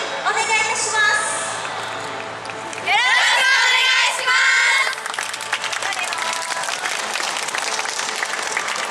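A festival crowd at a Yosakoi dance event cheers and applauds for a dance team, with sustained loud clapping and shouts continuing after an announcer's voice fades.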